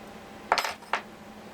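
Small M4 cap head screws handled on metal during assembly of a homemade rotary broach, giving a quick cluster of bright metallic clinks followed by one more short clink, close and alone.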